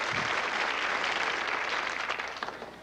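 Studio audience applause on a 1964 CBS primetime TV game show rolls on as a dense, sustained wash of many hands, thinning and fading toward the end.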